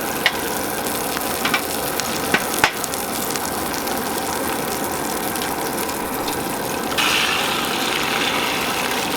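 Breakfast fries in a skillet on an MSR Windburner camp stove outdoors, a loud continuous sizzle with a few sharp utensil taps early on and a steady burner roar beneath.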